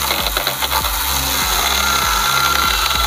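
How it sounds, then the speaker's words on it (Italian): A ValueMax 12V battery mini chainsaw cuts through wooden pallet boards, its loud, steady whine broken by repeated rhythmic pulses as the chain bites, with no talking. "Vediamo subito anche con le tavole questa sega della Valuemax come si comporta."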